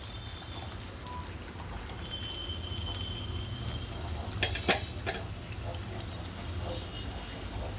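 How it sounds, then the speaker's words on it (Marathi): Drumstick (shevga) curry in a pot with added water comes to a boil, giving a soft steady bubbling and sizzle with a couple of brief clinks partway through, fairly quiet throughout. "आता आपण उकळू देणार आहोत"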